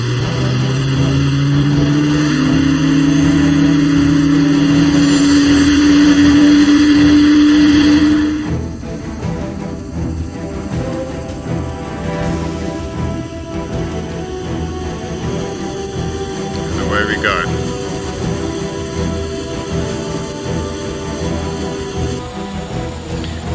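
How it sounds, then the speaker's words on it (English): A helicopter rotor in the video game Arma 2 starts up, first with a loud rising turbine whine over a steady engine drone, then settling into a lower continuous rumbling hum after the whine cuts away. "We'll then unlock the rotor brake and the rotor start up."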